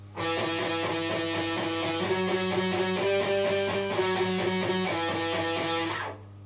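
A riff played alone on a distorted electric guitar, a steady run of sustained, chugging notes for about six seconds before it cuts off, with no talking.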